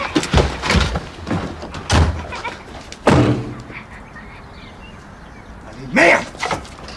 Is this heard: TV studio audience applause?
no